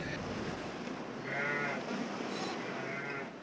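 Sheep bleat during lambing season in a quiet farm setting, with two or three wavering, moderately distant calls rising above a soft ambient background.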